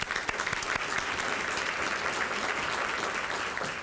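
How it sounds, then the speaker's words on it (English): Audience applause at an environmental awards luncheon, a steady dense clapping from a crowd that holds at an even level for the full few seconds with no voices over it. "So we want to give you a hand of applause."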